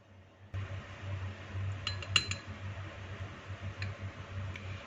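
A spoon stirs a cornflour and water mixture in a bowl, giving a few faint, light clinks against the bowl over a quiet background hum.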